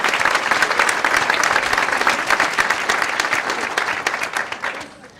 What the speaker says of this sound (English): Let's give a big round of applause to our sponsors today